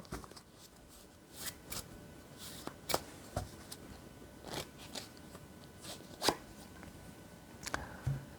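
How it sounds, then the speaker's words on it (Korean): Tarot cards being shuffled and drawn give soft, intermittent papery flicks and slides, scattered brief rustles close by at low volume with no speech. "마지막으로 소울 메시지 카드 한번 뽑아 볼게요"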